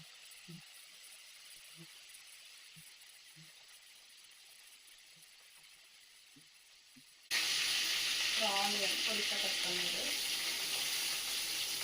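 Crab gravy masala sautés in a pan. Quiet room tone with faint talk gives way to a sudden loud, steady hiss and sizzle, with a voice speaking over it.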